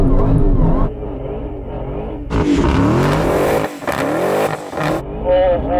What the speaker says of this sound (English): Oh, warming the tyres.